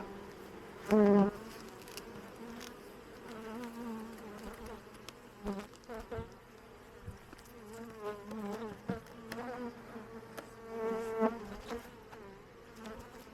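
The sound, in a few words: honeybees buzzing at open hive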